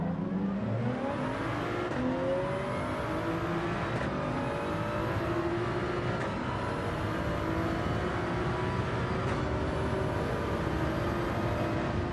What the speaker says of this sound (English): Let's just stay out of the way of this Porsche that's tearing down the inside.